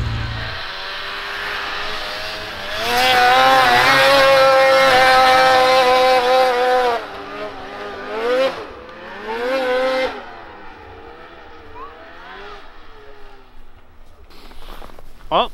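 A snowmobile engine drones loudly and steadily while riding, its pitch rising and falling as the throttle shifts, then easing back to a lower rumble with a few surges near the end.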